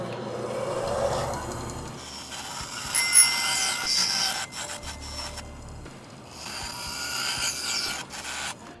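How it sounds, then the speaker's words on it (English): Bandsaw cutting the rounded edges off small wood pieces for hangers, a continuous whirring rasp that swells and eases as each cut is made, fairly close and steady without any talk. "So we'll just go over to the bandsaw and finish these up. So all we're going to do here is cut off these rounded edges."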